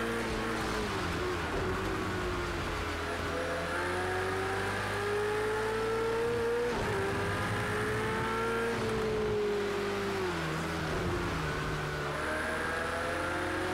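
A race car engine in the Project Cars 2 PS4 demo revs steadily and loudly, its pitch rising and falling through gear changes and corners, with a brief dip as it slides.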